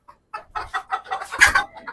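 Frightened Pakistani (Fayoumi) hens cluck in quick, agitated bursts up close, rising into a louder squawk before trailing off.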